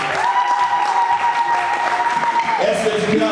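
Church congregation at a French-language worship service applauds and cheers loudly, a continuous wash of clapping and scattered shouts under a held tone and a speaking voice.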